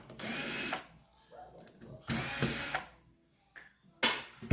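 Mechanical assembly being pulled apart while scrapping a Sony DVP-NS575P CD/DVD player: three loud bursts of ratcheting, grinding mechanical clatter with quiet pauses between them, close up and with no talking.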